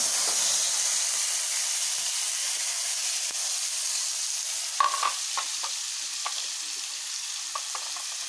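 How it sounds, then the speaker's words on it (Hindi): Masala frying in oil in a pan for an aloo kadhi gravy, a steady close sizzle and hiss with a few soft stirring clinks, no talking. "अब मैं इसको फ्राई कर लूँगी अच्छे से ग्रेवी के लिए।"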